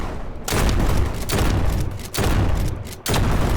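Explosions in a Roblox Call of Duty copy, three loud booming blasts in quick succession, each a broad rumbling burst filling the short stretch.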